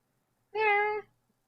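A single clear, close cat meow lasting about half a second, rising and falling, alone against silence.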